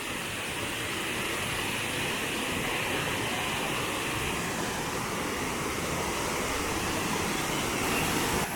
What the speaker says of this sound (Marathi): हे बघा आपण आता बघतोय कोकणातील सुप्रसिद्ध व्याघ्रेश्वर धबधबा